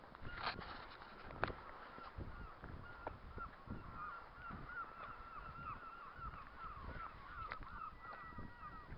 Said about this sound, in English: A lot of seagulls and oyster catchers flying about today.